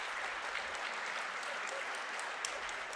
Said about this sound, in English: It's the most applause I think we've heard today here from the Union faithful